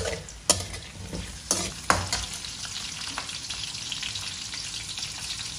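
Capsicum stirs into sautéing onions in a hot pan, sizzling steadily, with a few sharp clacks of a spoon against the pan near the start.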